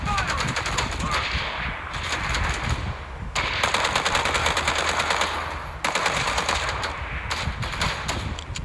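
Rapid automatic gunfire in the game Gangstar Mirage, a dense continuous rattle of shots in long sustained bursts with brief breaks, loud and close throughout.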